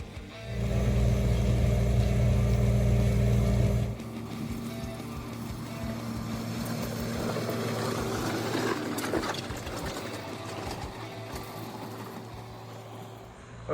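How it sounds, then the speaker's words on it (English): On drainage road work in Bell Buckle, Tennessee, a loud engine drones steadily, then drops at about four seconds into a lower, rumbling machine hum with scraping and crunching of gravel being spread, continuous and fairly close. "Watch Joe spread some more gravel."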